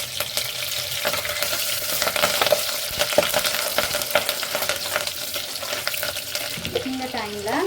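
Shallots and curry leaves frying in a pan for a village-style pomfret fish curry, a continuous close sizzle with repeated stirring scrapes and a brief rattle near the end.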